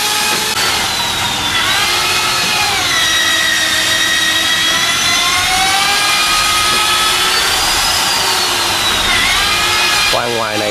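Power drill boring into the wooden hull of a boat under repair, a steady whining motor tone running nearly the whole time with pitch wavering as the bit bites, loud and close over a noisy workshop background.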